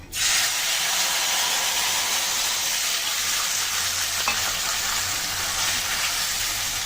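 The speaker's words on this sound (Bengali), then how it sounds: "তো তখন ফোড়নে দিয়ে দিচ্ছি একটা শুকনো লঙ্কা আর সামান্য দিয়ে দিচ্ছি পাঁচ ফোড়ন দিয়ে গুলে রাখা মশলাটা দিয়ে দিচ্ছি।" A dried chili, a pinch of panch phoron and a mixed spice paste hit hot oil for a vegetable dish, bursting into a loud, continuous close-up sizzle and hiss that holds steady throughout.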